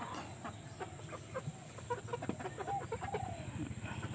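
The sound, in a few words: chickens clucking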